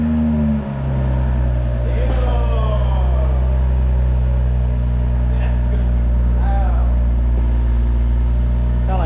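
A BMW M340i with a newly installed exhaust, closed valves, running at idle: a loud, steady, low rumbling drone, close by, with people talking over it.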